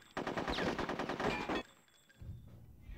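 Rapid automatic gunfire in the video game Conker's Bad Fur Day, a fast, loud burst of evenly spaced shots lasting over a second, then fading into quieter low rumbling.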